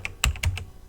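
Several sharp key presses on a computer keyboard, close and isolated, about three or four quick taps in under a second as text is deleted and typed.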